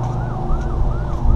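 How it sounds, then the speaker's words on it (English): An emergency vehicle siren wails in a steady rising and falling cycle outside a Food Lion grocery store, continuous and moderately loud over traffic rumble, with no talking. "I heard sirens."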